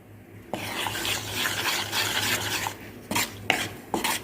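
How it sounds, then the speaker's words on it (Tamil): A spoon stirs moong dal and wheat roasting in ghee in a pan over a low flame, giving a continuous scraping, rustling texture with a few sharper clinks of metal against the pan near the end. "ஸ்டவ்வை நல்லா லோ ஃப்ளேம்ல வச்சுட்டு இது போல நல்லா கிளறி விட்டுட்டே இருங்க"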